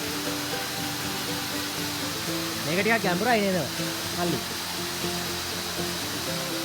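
A steady, near roar of rushing water from a waterfall in the Dunukaragoda rainforest, with someone briefly speaking over it midway.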